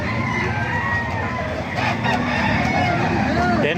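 A white gold gamefowl rooster, about eight months old, crows at a market, its call rising over a busy background of clucking birds, traffic and people talking.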